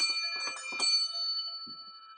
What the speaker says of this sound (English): This is just a bell.